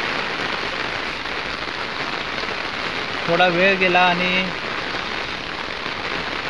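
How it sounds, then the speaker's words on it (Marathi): Heavy monsoon rain falls on the Mumbai–Goa highway near Nagothane during a roadside tyre change: a dense, constant hiss of drops hitting surfaces all around, with a brief stretch of talking partway through. "खूप पाऊस आहे इकडे"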